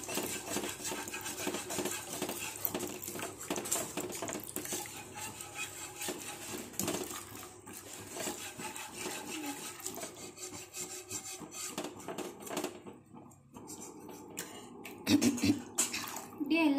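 A spoon scrapes and stirs in a pan as milk is gradually worked into a white sauce for cheesy pasta, making rough rubbing strokes in an uneven rhythm, with a voice talking over parts of it.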